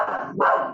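A dog gives a short double bark, close and clear, the second yap louder than the first.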